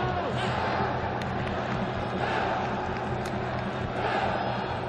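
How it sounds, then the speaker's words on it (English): Stadium crowd at an AFC Champions League Elite football match between Al Ain FC and Al Ahli Saudi FC keeps up a continuous broad roar of voices, distant and steady. "It's a good crowd in tonight."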